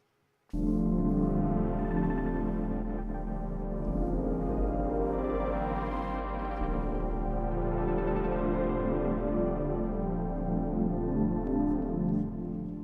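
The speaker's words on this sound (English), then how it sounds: "So this is the default patch of the grain sample manipulator" Default patch of the Reason Grain sample manipulator, a dense, swelling soundscape pad with a deep low drone and shifting upper texture, sustained alone for about twelve seconds.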